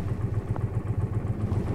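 Motorcycle engine idling or rolling slowly near a monastery, a close, steady low chug with rhythmic pulsing beats and light mechanical clatter, no speech.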